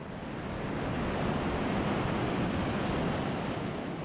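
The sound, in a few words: ocean waves on the beach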